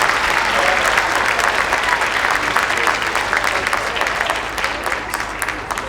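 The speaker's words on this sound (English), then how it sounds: "Can we give another round of applause?" A spring concert crowd, mostly parents, gives a full round of applause: thick, continuous clapping that stays loud and tapers slightly toward the end.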